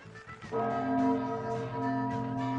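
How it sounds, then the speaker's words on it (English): A bell-like chime rings out alone as a sound effect: a sustained, resonant tone with rich ringing overtones that swells and slowly decays. "And now, it's chime time."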